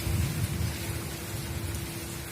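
Heavy rain pours down outside with a dense, loud, unbroken roar and a low rumble underneath, no voices.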